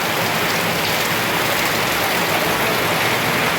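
Torrential storm rain pours down in Basirhat, North 24 Parganas, a dense, steady, loud roar of water with no pauses or voices.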